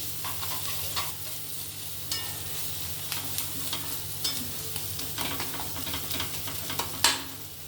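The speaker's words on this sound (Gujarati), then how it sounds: "થોડી વાર બરાબર શેકાઈ જાય ત્યાં સુધી આપણે આ રીતે હલાવવાનું છે।" A garlic chutney roasting in a pan is stirred steadily, with a continuous close sizzle and repeated scraping strokes of the spoon against the pan, with no talking.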